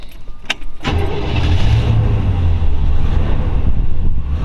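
1940 Ford Deluxe coupe with a 350 engine cranking briefly, then catching and settling into a loud, deep, steady idle, heard up close with some wind buffeting.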